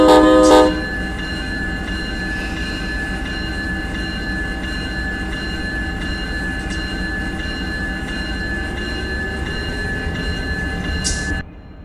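A train in the Run 8 train simulator video game, a steady heavy rumble with engine drone and clanking, opening with a brief horn blast and ending abruptly.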